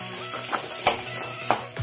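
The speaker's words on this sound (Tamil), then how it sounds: "இது எல்லாத்தையும் நல்லா வதக்கிக்கலாங்க" Onion, ginger and garlic sautéing in a pan for a Tamil country chicken curry, a steady soft sizzle broken by a few brief scraping stirs of a spoon against the pan, close by.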